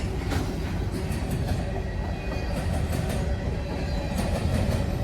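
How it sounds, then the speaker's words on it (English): A very long freight train rolls through a small old town, a continuous loud rumble with rhythmic clickety-clack of wheels over rail joints and faint metallic squeals, close by. "we got a really long train coming through"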